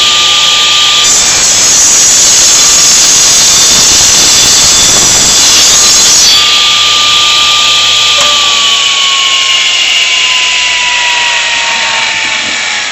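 A Sears Craftsman 10-inch Laser Trac radial arm saw slowly cutting trim stock for fine cabinetry: a loud, steady high-pitched motor whine with a rougher blade-bite roar midway, then the whine winding down alone.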